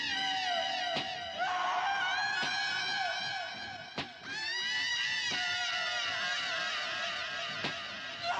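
Layered screaming from the film Night of the Living Dead, several sustained high wailing voices overlapping and shifting pitch, with sharp clicks punctuating a steady, fairly loud background.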